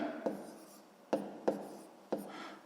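Pen or pencil writing numbers by hand on paper during a sixth-grade maths lesson, with a soft continuous scratching broken by four sharp taps as strokes begin, close and clear with no talk.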